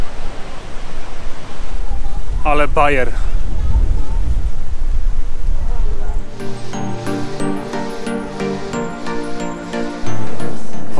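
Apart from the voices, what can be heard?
waterfall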